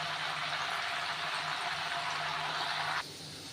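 Jackfruit chips frying in hot oil give off a steady, dense hiss and bubbling sizzle, close and even, which drops abruptly to a quieter simmer near the end.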